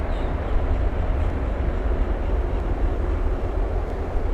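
British Airways airliner taxiing at Miami International Airport, a loud sustained low engine rumble and whine that holds steady throughout.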